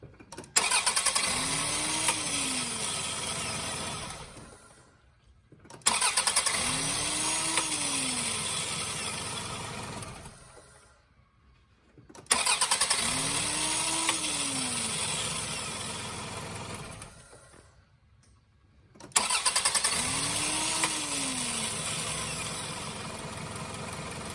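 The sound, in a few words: 1999 Toyota Camry engine starting after starter replacement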